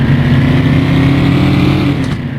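Car engine revving hard in first gear in the 1995 Need for Speed video game, a loud, continuous high-pitched engine whine with a steady buzzing drone that eases slightly at the very end.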